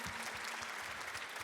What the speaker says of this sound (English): Can you guys just applaud one more time?